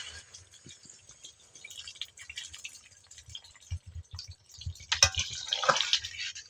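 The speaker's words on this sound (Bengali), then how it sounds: "জল দিয়ে দেবো।" Water is poured and drips into a bowl while dal puri dough is being made, a soft trickle with scattered drips and a brief louder splash near the end, close and otherwise quiet.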